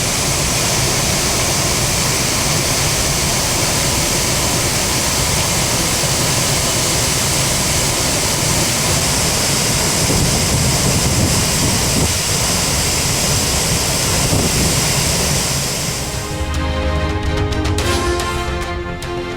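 Courtallam waterfalls run in flood after overnight rain. A loud, continuous rushing roar of heavy falling water holds steady throughout and eases slightly near the end, with no voices.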